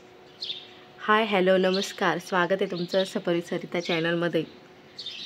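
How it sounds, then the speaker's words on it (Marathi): Faint bird chirps are heard at the start and end, while a person speaks a greeting in between. "आणि इकडे पक्ष्यांचा किलबिलाटाचा आवाज येतोय."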